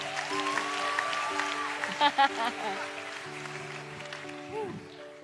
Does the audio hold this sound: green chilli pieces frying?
no